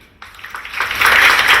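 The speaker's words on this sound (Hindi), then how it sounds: "तालियां।" Audience applause starts abruptly and builds quickly into dense, loud clapping over a short stretch.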